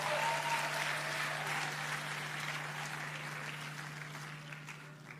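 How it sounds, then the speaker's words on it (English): A church meeting audience applauds during a sermon, a faint, distant wash of clapping that slowly fades out with no talking over it. "because like I noticed you wanted to clap"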